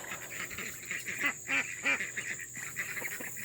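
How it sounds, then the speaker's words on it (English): Baby ducks in a garden giving a run of close, nasal honking quacks in uneven bursts, several calls repeating over a faint steady background hum. "Here's the baby ducks talking to me."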